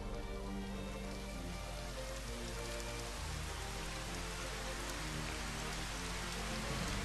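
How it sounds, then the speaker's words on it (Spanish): Steady, dense rain pours in Final Fantasy XV, a continuous hissing wash of raindrops on surfaces mixed with a low rumbling bed, even in loudness throughout and with no talking. "Oh, como llueve."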